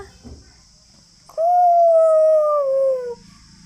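A voice imitates a jackal's howl: one long, sustained wavering tone that slides gently downward, loud and close, held for nearly two seconds.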